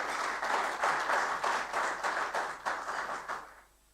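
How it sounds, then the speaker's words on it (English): Audience applause at a national cyber security conference, a dense burst of clapping from a crowd that holds steady for several seconds, then fades out quickly. "Allow me request that we give the governor another resounding applause."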